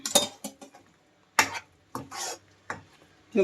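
A spoon stirs thick potato curry masala paste in a pan, with a few scattered scraping clinks and soft smeary strokes separated by pauses, close and moderately loud.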